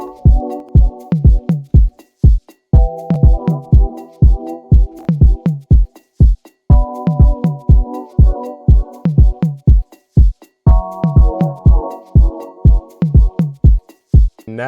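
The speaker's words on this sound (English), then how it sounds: "I just wanna start with a shaker loop." A dancehall beat built in FL Studio plays alone, with a steady, punchy rhythmic pattern of sharp percussive hits and chord stabs that repeats in bars over about fifteen seconds.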